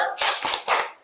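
A classroom group claps a quick rhythmic pattern, three sharp bursts of hand claps in even succession, close and bright.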